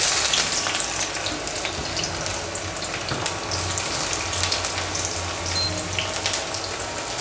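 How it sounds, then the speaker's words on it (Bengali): Onion fries in hot oil in a wok, giving a dense, continuous close sizzle with a faint low hum beneath it. "আরেকটি কড়াই বসিয়ে দিয়েছি, দিয়ে দিয়েছি তেল। এখন দিয়ে দিচ্ছি পেঁয়াজ"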